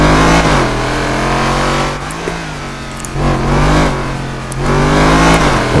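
A sports car engine in a GTA game revs loudly and steadily, rising and dipping in pitch across several pulls with brief lulls, close and continuous with no talking.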